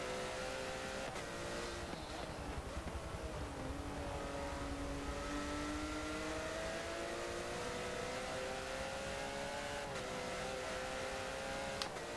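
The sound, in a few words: Porsche Cup race car braking and accelerating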